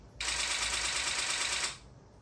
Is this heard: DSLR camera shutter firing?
yes